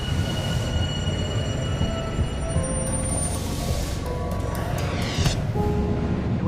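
Underground metro train in a subway station, a steady loud rumble of rolling cars with high tonal wheel squeals and screeches drifting through, no talk.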